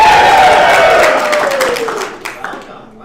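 Audience at a live show cheering, whooping and clapping in a loud burst that fades out over a few seconds.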